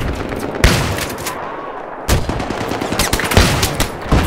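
Machine gun fire in the video game Battlefield 3 crackles in repeated loud bursts of sharp shots, with a short lull in between.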